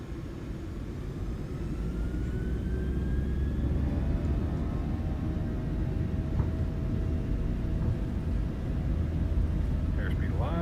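A PMDG 737-700 takeoff roll in Microsoft Flight Simulator: a steady, loud jet engine roar with a rising whine as the airliner accelerates down the runway. A voice calls out over it.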